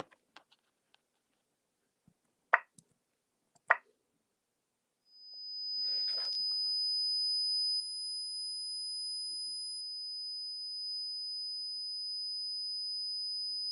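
A steady high-pitched 5,000 Hz ringing tone starts abruptly after a few faint taps and clicks, then holds loud and constant to the end, a fainter higher tone dropping out partway.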